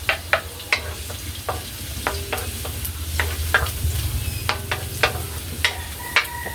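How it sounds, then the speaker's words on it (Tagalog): Ginger and garlic sauté in hot oil for chicken liver and gizzard adobo, a steady close sizzle punctuated by sharp, regular clinks of a spatula against the pan. "igisa lang muna natin itong luya"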